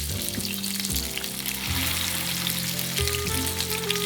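Steady, close crackling sizzle of skin-on fish frying in a hot pan under a fish weight, with dense popping spatter and a low hum underneath. No voices.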